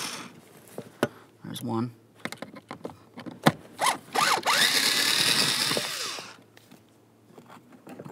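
A 5.5 mm socket wrench backs out the blower motor control module bolts on a 2002-2009 Chevrolet Trailblazer, with short ratcheting bursts and a longer stretch of rapid clicking, close by, between brief spoken remarks.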